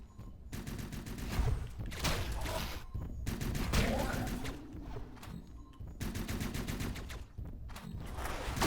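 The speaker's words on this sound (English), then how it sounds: "Ah, chain guns! And rockets!" Chain gun and rocket fire in the video game Hyper Light Drifter: dense, rattling bursts of rapid gunfire with heavy blasts, broken by a few brief lulls, loud and continuous throughout.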